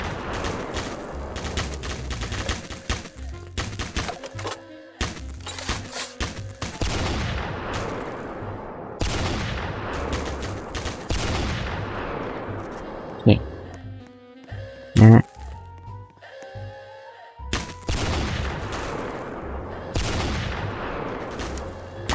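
Gunfire in the Roblox game Military Tycoon, a steady run of rapid shots through much of the stretch, with a few sharper loud bursts midway, while a voice talks over it.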